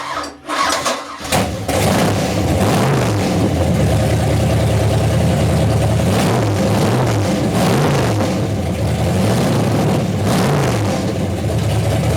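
A big Mercruiser 502 marine V8 boat engine with a Holley 800 CFM marine carburetor cranks briefly, catches, and settles into a loud, steady rumbling idle with a throaty low pulse, heard up close.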